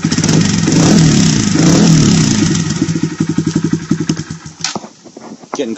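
Honda Monkey motorcycle engine revving through an aftermarket exhaust, a loud sustained roar that settles into a rapid, throbbing burble of distinct pulses before dropping off, with no talk.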